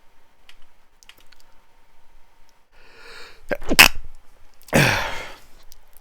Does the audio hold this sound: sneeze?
yes